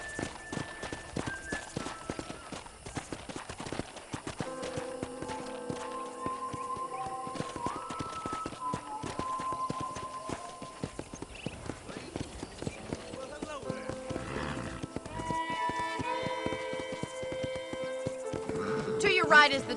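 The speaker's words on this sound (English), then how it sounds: "let's see if you can still ride a horse" Horse hooves clip-clop steadily while riding in the Red Dead Redemption video game, a continuous walking rhythm heard beneath ongoing dialogue and musical score, with a whinny possible near the end.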